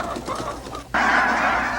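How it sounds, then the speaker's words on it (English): A dense chorus of geese honking at once, loud and continuous, swelling abruptly partway through as a large flock passes close by. "Flocks of geese sound the warning that winter is not far behind."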